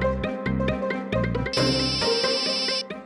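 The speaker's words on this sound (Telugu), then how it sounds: "నీ ఫోన్ ఆగకుండా అరుస్తూనే ఉంది" A mobile phone ringtone plays loudly indoors for about three seconds, a repeating melodic tune with a brighter, higher layer joining halfway through, heard alone with no talking.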